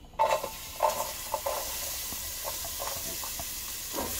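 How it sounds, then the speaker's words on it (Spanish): Onion hitting a hot pan for a tomato salsa, a soft continuous hiss and sizzle with a few brief clinks and stirring scrapes early on, fairly quiet and steady throughout. "Miren, vamos a, a poner poquita cebolla aquí"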